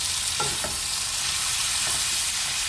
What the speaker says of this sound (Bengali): ভালো করে এই ফুলকপি আর আলুটা ভেজে নিতে হবে